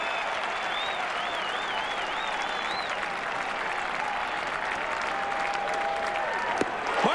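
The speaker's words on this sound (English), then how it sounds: "the crowd encouraging Martinez to strike out the side here in the third" A baseball crowd at Fenway Park in Boston keeps up steady cheering and applause through a game against Seattle, a continuous roar from the stands with a whistle rising above it.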